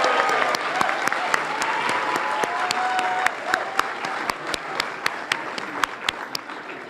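Audience applause at a legacy business award ceremony, dense clapping throughout with sharp, regular louder claps standing out near the front, while a faint tone lingers early on.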